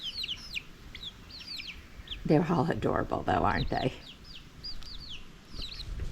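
Hens and a rooster on a backyard flock cluck and chirp nearby, with repeated short calls throughout and someone speaking briefly over them in the middle.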